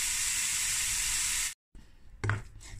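Bacon goes into a pan of browned, caramelized onions and sizzles with a steady bright hiss, followed by a brief pause and a few soft knocks and stirring noises.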